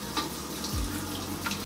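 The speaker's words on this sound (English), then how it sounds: "I'm gonna add a little bit more water to my face." Water from a running tap splashes and trickles at a sink as a face is rinsed during washing, with a soft splash midway and light drips, close and fairly quiet, no talking.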